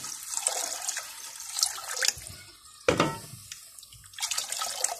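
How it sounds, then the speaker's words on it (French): Water poured from a tap or jug into a pot of okra sauce, a steady splashing stream close by with brief pauses and a few sharper drips and clatters, no talk. "vous rajoutez une quantité d'eau en fonction de la quantité du gombo que vous avez"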